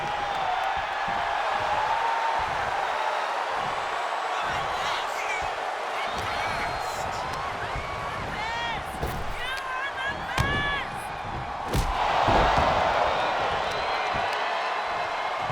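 A wrestling crowd at an All Influencer Wrestling match yells and cheers in a steady roar, swelling briefly near the end, with a commentator talking over it throughout.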